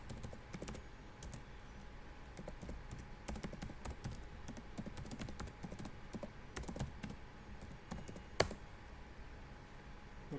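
Someone types the sudo rmmod command on a computer keyboard in a Debian Linux kernel demo, producing quiet, irregular clicking keystrokes with one sharper tap near the end.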